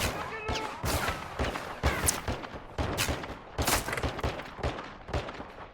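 Dense gunfire from Call of Duty: Modern Warfare 2 on Xbox Series S, a loud crackling fusillade of rapid automatic bursts and sharp shots that goes on without pause, with a shouted voice cutting through briefly.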